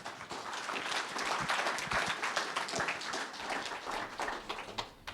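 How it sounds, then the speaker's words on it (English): An audience claps for the master breeder of the American Jersey Cattle Association at the World Dairy Expo, a steady round of applause with dense, uneven claps that stays fairly even for its whole length. "So please give them a round of applause."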